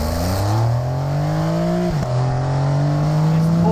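Turbocharged Porsche 911 flat-six engine revving steadily upward, loud and close, with a brief dip around the middle before the pitch climbs again; no talking over it.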